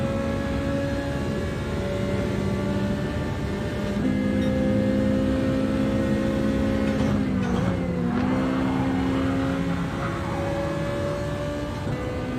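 A race car in Gran Turismo 7 roars steadily as its engine climbs through the revs during an overtaking attempt, with a rising, shifting whine near the middle before settling back into a loud sustained drone.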